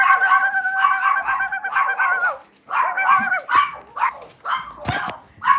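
Puppies give loud, close, drawn-out howls, then switch to a run of short yapping barks and whines, with no talking.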